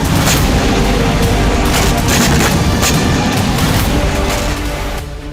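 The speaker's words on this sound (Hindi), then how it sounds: "रूसी सेना ने यूक्रेन के एनर्जी सेक्टर पर भी जबरदस्त विस्फोट किए।" Heavy booming blasts and crackling rumble from Russian strikes on Ukraine's energy sector, loud and continuous, with repeated sharp impacts fading slightly at the end.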